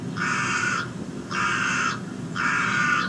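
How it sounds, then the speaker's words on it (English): Crows caw three times, each call long, harsh and evenly spaced, loud and clear against a faint background hiss. "You can think of the crows, for instance."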